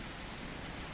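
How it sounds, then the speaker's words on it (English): Rain in the dinosaur survival game The Isle falls as a steady, soft hiss with no other sounds, quiet and even for about a second. "So we'll just wait here until the rain stops, I think."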